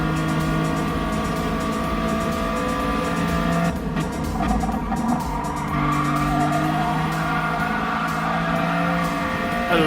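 Race cars in a video game race corner hard, with steady engine drone and tyre squeal layered throughout, loud and continuous with no talk.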